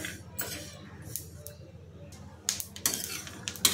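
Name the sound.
peanuts and sesame seeds dry roasting in a pan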